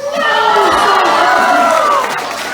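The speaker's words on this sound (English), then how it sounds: "you can give him a huge round of applause" Zoo crowd at a sea lion show cheering and whooping, with children's voices, in a loud sustained burst that rises quickly and fades after about two seconds.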